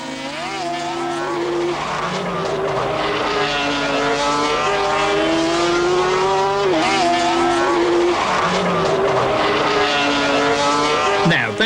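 Sidecar outfits racing at Anderstorp, a Swiss crew among them, their engines screaming loud and continuous with rising and falling pitch as they pass close, several machines overlapping with squealing, revving tones throughout.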